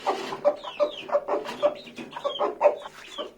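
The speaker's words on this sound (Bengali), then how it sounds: "আর এটা হয়েছে একটা পাহাড়ি মোরগ, উল্টা পশমের, গলা ছিল" A large hill rooster of a reverse-feathered naked-neck breed, weighing about 2.5 kg, clucks in a steady series of close, short calls, about one every half second, with other birds chirping faintly behind.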